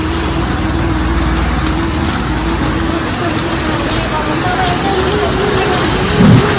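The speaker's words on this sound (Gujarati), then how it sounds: "વરસાદ ચાલુ છે જોરદાર." Heavy rain pours down outdoors in a loud, dense, unbroken hiss, with a few people's voices faintly mixed into the downpour.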